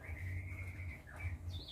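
A young oriental magpie-robin chirps in a thin, sustained call that slides and repeats twice, faint and close, alone over a low background hum.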